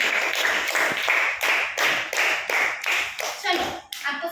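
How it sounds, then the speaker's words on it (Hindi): A class of students clapping loudly in unison, a dense run of sharp claps in steady rhythmic bursts, close and continuous to the end. "बस जोर से ताली हो जाए"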